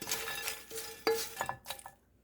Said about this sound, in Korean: 잠시 접시에 좀 옮겨줍니다.